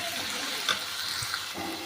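Chopped onions fry in a pan for a chapati onion curry, giving a steady, close sizzle with soft hiss and a few faint stirring bumps.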